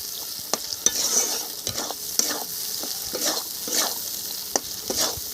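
Ginger paste, salt, turmeric and chili powder stirred while frying in a pan, a steady sizzle with rhythmic scraping strokes of a spoon about twice a second, close and alone.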